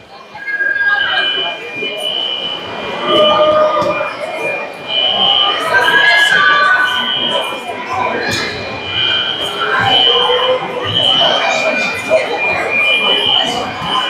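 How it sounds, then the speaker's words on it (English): A fire alarm sounds throughout a hockey arena during a minor hockey semi-final game, a steady high electronic tone running beneath loud crowd noise and arena chatter for the whole stretch. "The fire alarm has gone off again."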